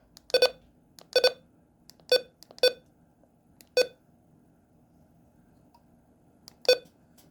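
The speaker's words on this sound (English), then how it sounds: "low button beeps" Several short electronic button beeps from a Midland HH54 radio sound at uneven intervals, each crisp and close, with quiet gaps between them.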